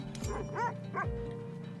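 Dogs in the video game The Red Lantern give two short, close barks about half a second apart over a low steady background drone.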